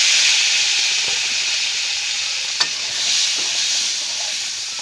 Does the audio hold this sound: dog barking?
no